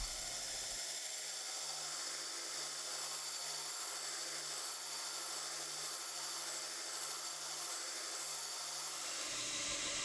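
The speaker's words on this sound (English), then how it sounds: "I will use the bottom wheel of my grinder to grind in some fullers in the tang" Bench grinder's bottom wheel cutting fullers into the tang of a small 9mm EDC knife blade, a steady continuous grinding hiss with a low motor hum, close and unbroken for most of the clip before cutting off near the end.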